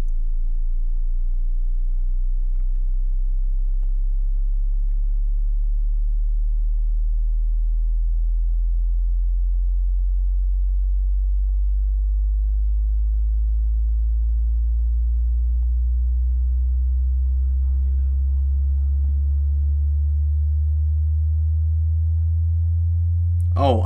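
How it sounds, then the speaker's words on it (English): A low speaker-test tone sweeps steadily upward in pitch as a pure sine, quiet at first and growing fuller, playing alone for over twenty seconds before a brief click at the end. "This is a signal test for you."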